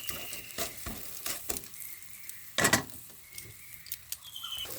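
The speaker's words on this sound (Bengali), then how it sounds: "চেরা কাঁচা লঙ্কা দিয়ে দেবো, আর স্বাদ মতো লবণ দিয়ে আমি নাড়ব।" Slit green chillies and salt frying in a pan, with intermittent sharp scrapes and clacks of stirring over a faint, quiet sizzle.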